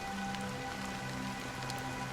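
Steady rain falling in the video game Honkai Star Rail, a continuous even hiss of drops on surfaces with a low hum of game ambience beneath, constant and close throughout.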